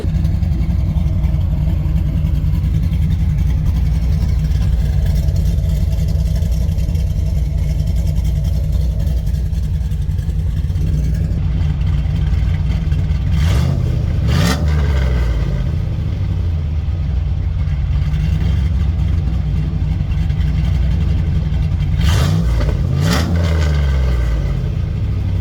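A lowered Ford Ranger with a V8 swap and full 2.5 inch dual exhaust idles with a loud, steady rumble, then gets two sharp revs that rise and fall back to idle, close and alone.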